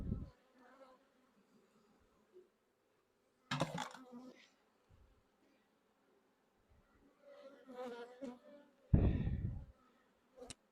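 Honeybees buzz around an opened nuc hive in a Pennsylvania apiary, a faint, patchy drone interrupted by several louder bursts as insects pass close to the microphone.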